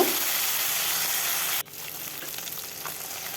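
Pomfret fish frying in hot oil while being turned over, a steady loud sizzle that drops abruptly partway through and then resumes more softly, with no talking.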